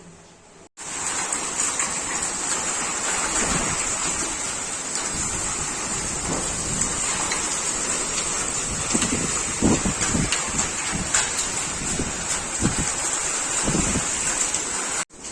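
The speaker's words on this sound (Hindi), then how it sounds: "बारिश हो रही है" Heavy rain pours down in a constant dense hiss, close and loud, with occasional heavier splatters and thuds mixed into the downpour.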